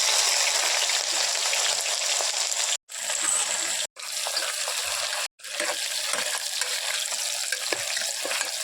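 Cumin, onion and green chili fry in hot oil, likely in a pressure cooker pot, giving a loud, steady, close sizzle that breaks off briefly three times before continuing; no one speaks.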